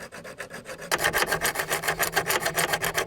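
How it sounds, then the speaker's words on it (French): A hand saw works back and forth through the door panel of a Range Rover P38, steady rhythmic rasping strokes close by, faster and louder after a slower start. "je vais essayer de scier ici du coup"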